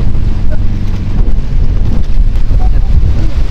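Strong waves and gusting wind batter a boat at sea off Baler during a typhoon, a loud, continuous rumble of wind buffeting the microphone and surging water.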